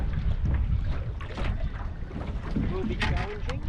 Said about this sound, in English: I said that the wind had eased. It is still blowing.